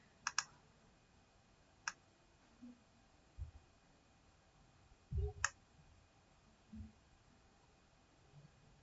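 A computer mouse clicks sparsely and faintly during QGIS map work, a quick double click followed by single clicks, with soft low thumps in the quiet background.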